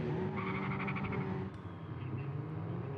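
Caterham Super Seven race cars cornering on a circuit at the Caterham Festival: engines droning and whining nearby as they round the bend, with a brief squealing tone early on and a continuous rumble.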